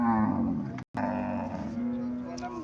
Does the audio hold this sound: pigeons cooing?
no